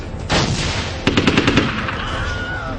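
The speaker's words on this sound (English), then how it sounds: "The multi-round projectile launcher was popping off a round when Bolan nailed the shadow assassin" Gunfire from a multi-round projectile launcher, an opening blast followed by a rapid burst of about six sharp shots, loud and close, with no voices.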